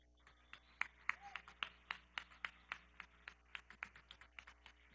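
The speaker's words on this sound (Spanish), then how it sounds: "Quiero pedir un fuerte aplauso al sistema Sonara" Sparse, fairly even handclaps from a small audience at a concert in the Ciclo SonARA at Teatro Bolívar, faint and thin with a low steady hum beneath.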